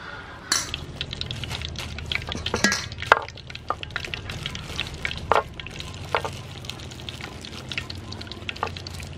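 Soybean oil fries in a pan with a steady low sizzle, while utensils scrape and clink sharply against the pan now and then, close up and with no voices.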